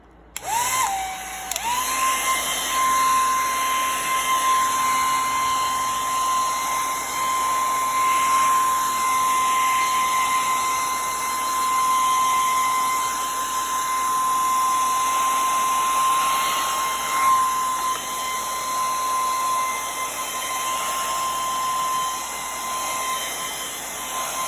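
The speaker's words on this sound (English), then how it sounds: "I'm gonna shoot it with my blow dryer so I can show ya." A blow dryer switches on with a click and runs steadily as it dries a craft, giving a loud, continuous whine and rush of air that holds for over twenty seconds.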